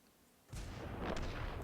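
Artillery fire from tanks in a video game replay, including a Hummel self-propelled gun and an M41, heard as a sudden loud boom followed by a sustained rumbling, crackling wash of distant shots.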